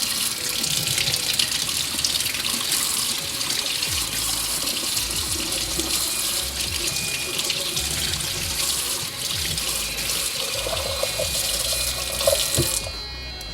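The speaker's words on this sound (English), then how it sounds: "Turn on the water." A tap runs steadily over an Oclean X Pro smart electric toothbrush at a sink. The broadband rush of water is close and loud, holds for the whole stretch and cuts off near the end.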